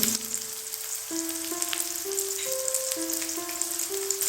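Peanuts fry in a pan with curry leaves, red chili powder, turmeric and garam masala, making a fine, continuous crackling sizzle under a background tune of gliding, stepped notes.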